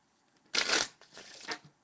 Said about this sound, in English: you want to shuffle the deck